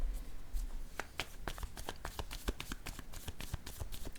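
Cards slapped and shuffled on a tabletop during a card reading, a brisk series of soft, crisp clicks and flicks, close and fairly quiet.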